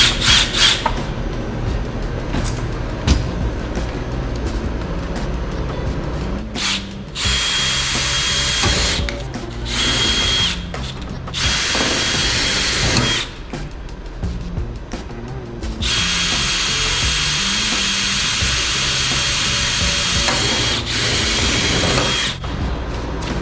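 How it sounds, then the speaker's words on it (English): A power drill bores into a metal frame lubricated with cutting oil, whining loudly in long sustained runs that stop and restart several times, with short quieter gaps between bursts. "making sure your earplugs are in for drilling"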